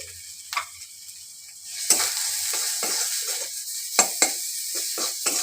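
Chili powder and chopped green chili frying in a pan with turmeric for a potato curry, a steady close sizzle broken by sharp stirring scrapes of a spatula, no talking.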